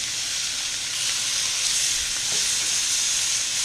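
Burgers frying in a hot pan give off a steady, close sizzling hiss that runs evenly throughout, with a faint scrape partway through and no talking.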